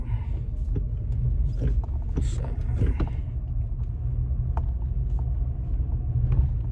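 A car rumbles at low speed while parking near a pier, its engine steady beneath scattered mechanical clicks and knocks, with no voices.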